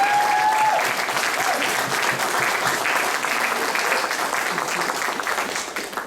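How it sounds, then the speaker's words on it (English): An audience breaks into loud, sustained applause that slowly thins toward the end, with a brief tone sounding at the start. "You can clap for that."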